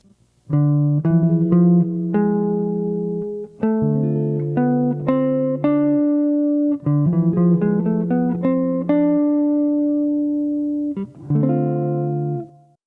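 Guitar line in D Dorian sharp 4, the Romanian mode, played over a jazz harmonic-minor progression. A run of clear plucked notes with ringing chordal tones comes in several phrases with short gaps, close and unaccompanied by speech.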